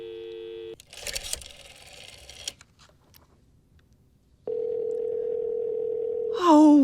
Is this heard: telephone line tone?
yes